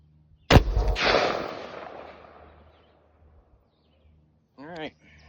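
A Bear Creek Arsenal bolt-action 5.56 rifle fires a single loud, sharp shot outdoors on a breezy range, with a long rolling echo that fades over a couple of seconds, followed later by a brief burst of talking.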